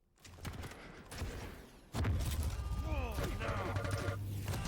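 Rocket fire and explosions in a Quake match between DaHanG and Cooller at QuakeCon 2019: repeated launches and blasts, one big burst at about two seconds followed by sustained crashing and whooshing game effects.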